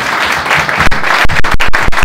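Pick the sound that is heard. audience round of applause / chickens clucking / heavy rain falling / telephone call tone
audience round of applause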